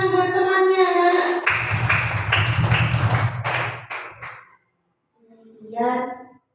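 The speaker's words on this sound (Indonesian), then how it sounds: "Tepuk tangan buat temannya, anak-anak." A class of schoolchildren claps for a classmate in a lesson, a dense burst of hand claps for a few seconds, then a pause and a voice afterward.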